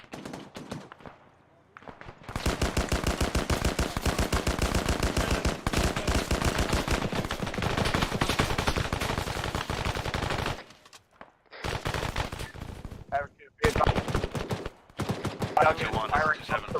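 Sustained automatic gunfire in an Arma military simulation game, long rapid bursts broken by short pauses, loud and close with sparse radio chatter mixed in.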